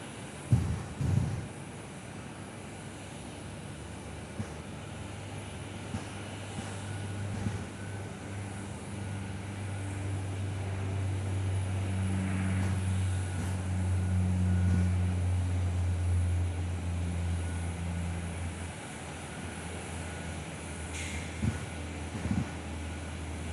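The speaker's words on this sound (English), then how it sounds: "Got another Air North aircraft heading out. It's another one of their E190s." An Air North Embraer E190 jet taking off, a low engine roar that swells gradually, peaks around the middle, then fades as it climbs away, heard from a distance with steady background hum.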